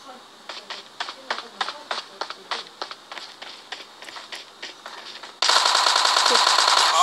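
Rapid bursts of machine gun fire in a video game ring out as a string of sharp, evenly spaced shots, then give way to a loud steady roar of noise near the end.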